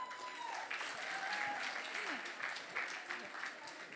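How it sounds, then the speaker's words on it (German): A crowd at a beauty pageant final applauds steadily and loudly, a dense wash of clapping over soft background music and faint voices. "Bitte einen kräftigen Applaus."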